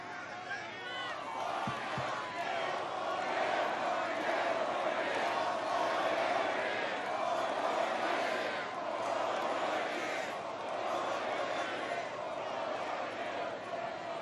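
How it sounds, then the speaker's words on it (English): Large crowd at a Trump campaign rally in New Hampshire, a steady roar of cheering and shouting that swells and dips throughout, with a couple of sharp claps or thumps near the start. "Pretty good crowd, right?"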